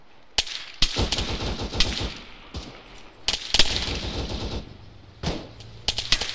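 Machine gun fire from the ARMA 3 military game, loud and close, in several sharp bursts with brief pauses between them and no talk.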